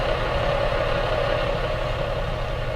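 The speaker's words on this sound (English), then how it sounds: "I know we haven't turned the engine off" A farm vehicle's engine idles in Farming Simulator 17 during a field harvest, a steady, even low rumble holding at one level without any change in pace.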